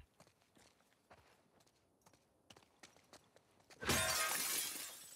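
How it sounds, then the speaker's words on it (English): Glass windows smashing in The Last of Us Part 2: soft footsteps and small clatters lead into one loud, bright crash of shattering glass that rings out and fades over the last second, with no voices. "Just because smashing windows is good."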